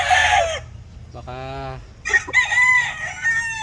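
A brood stag rooster of a red and Mt. Banahaw line crows once, near and loud, a long harmonic cock-a-doodle-doo with clucking and rustling from other fowl around it.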